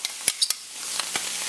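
Garlic tipped into a hot pan of shrimp for Jamaican peppered shrimp, giving a steady close sizzle with a few sharp stirring clinks and taps over the frying hiss.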